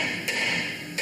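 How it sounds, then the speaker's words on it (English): A hammer strikes a steel box section twice, about a second apart, sharp metallic strikes ringing out against a steady background hum, close and moderately loud. "Give that box section a spank with hammer."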